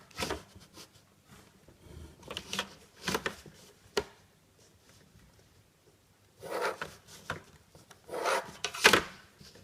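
Eraser or finger rubbing a drawn point off paper, soft scratchy swishing strokes in short bursts, close and quiet, with pauses between passes.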